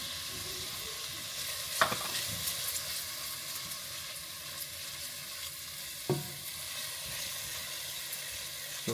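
Ginger and garlic frying in a pan, a steady bright sizzle with a few sharp scrapes of stirring near the two- and six-second marks, close and loud, no voices.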